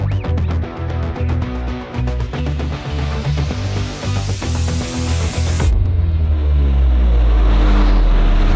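A three-wheeled motorcycle on a country road, its engine rising in a loud revving rush that sweeps past and then settles into a strong, close rumble for the last few seconds.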